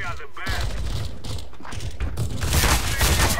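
Gunfire from Counter-Strike: Global Offensive comes as bursts of shots and booms in a busy game mix that grows louder toward the end.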